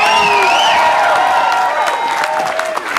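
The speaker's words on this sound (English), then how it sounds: "another nice round of applause for Preston and Steve." A crowd applauds and cheers loudly, with steady clapping, scattered whistles and whoops, gradually easing off toward the end.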